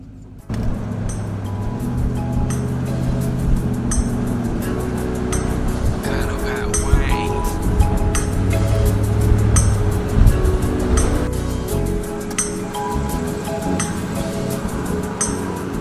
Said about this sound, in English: It's time for an AC-less hot drive.